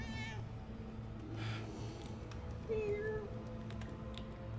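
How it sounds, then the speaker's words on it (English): A domestic cat, a talkative female, gives a few clear meows at close range over a low background hum. "That's what my cat sounds like."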